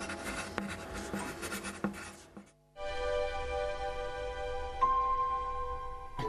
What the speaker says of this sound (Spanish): coge un lápiz y empieza a escribir